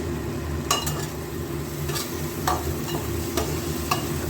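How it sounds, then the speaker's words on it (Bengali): Ginger, spices, salt and turmeric being stirred in a pan for bitter dal, with a steady low sizzle beneath several distinct scraping strokes spaced about every half second to second, close and moderately loud. "একটু নাড়িয়ে চাড়িয়ে মিশিয়ে"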